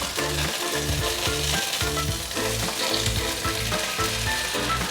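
Thick-cut cabbage pancakes fry in oil in a pan, giving a steady, loud sizzle and crackle that goes on throughout, close up, with no voices.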